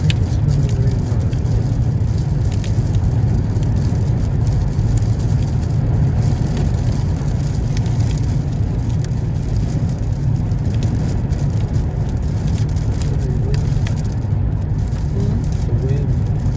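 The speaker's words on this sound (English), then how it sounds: "So windy, ah. Wow. The wind is so strong." Strong wind gusts roar steadily before a coming rainstorm, a dense, constant rushing noise close to the microphone that runs unbroken from start to finish.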